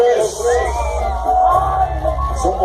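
A crowd gathered at a sound-system event in Naucalpan shouts, whoops and cheers together in a loud, sustained burst of many voices.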